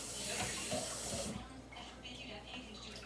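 Water from a tap runs with a steady hiss into a cooking pot for just over a second, then stops, leaving quiet kitchen sounds.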